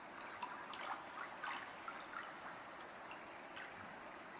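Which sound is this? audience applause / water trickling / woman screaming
water trickling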